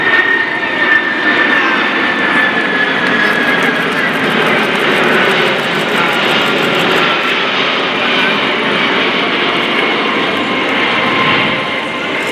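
Lockheed C-5M Super Galaxy military cargo jet flying past at an airshow, a loud, steady roar of jet engines sustained for the whole stretch, with a faint announcer's voice beneath.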